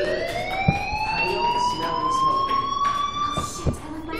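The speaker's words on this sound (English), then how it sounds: "do you hear that fire alarm?" A loud, steady electronic alarm tone rings continuously in the Life is Strange video game, holding a high sustained pitch with a few faint background knocks.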